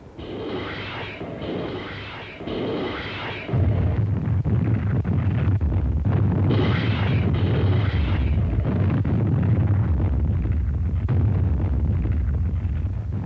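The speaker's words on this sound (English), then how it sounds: "Just before the landing, the rocket ships went to work." A continuous, heavy roar of rocket ship explosions bombarding invasion beaches in World War II, rumbling booms blending into a dense barrage, loud and sustained, with bursts building over time.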